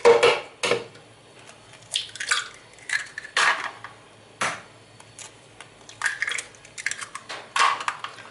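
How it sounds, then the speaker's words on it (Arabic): A series of sharp taps and cracks as three room-temperature eggs are broken against a mixer bowl for cake batter, followed by soft wet plops, repeated several times at an unhurried pace, close up. "هنجيب الخلاط بتاعنا ونحط فيه 3 بيضات"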